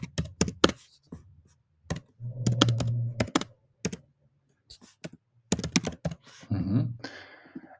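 Fingers tap on a computer keyboard while writing a Gmail template name, giving sharp clustered keystroke clicks in short bursts separated by pauses, close and crisp with a faint hum between.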